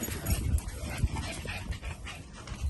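Excited dogs at home whimper and pant in short, soft bursts, with faint yips mixed into a continuous low bed of household noise.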